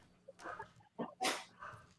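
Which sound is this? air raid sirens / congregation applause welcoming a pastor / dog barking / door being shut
dog barking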